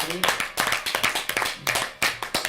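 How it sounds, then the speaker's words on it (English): Players at the end of a mafia party game clapping briefly, a few close, uneven bursts of hands mixed with voices talking over them. "Let's give some applause to number"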